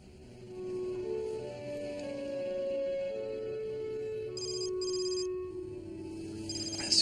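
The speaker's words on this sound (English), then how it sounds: "Excuse me, I got a phone call." A telephone rings with short, bright electronic bursts late in the passage, faint over a quiet background of low tones, with no speech.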